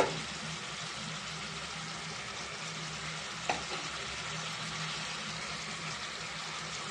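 Chili powder and coriander powder fry in a pan, a low, even hiss of sizzling oil with one faint knock from a spoon, quiet and uninterrupted.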